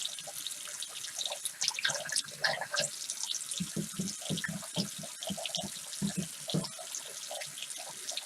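Water runs steadily from a bathroom tap into a sink as a makeup brush is wetted under the stream, with a continuous splashing flow and a few drips throughout.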